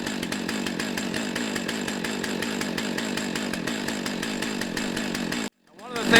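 A Stihl 661 chainsaw idles steadily nearby with a constant rumbling drone, running on fuel mixed at 40-to-1, before the sound cuts out abruptly near the end.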